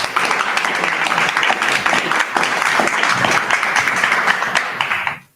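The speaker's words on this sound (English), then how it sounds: "give them a round of applause" A room full of people claps in a steady, dense round of applause to welcome guests at a church leadership gathering, loud and even before cutting off sharply.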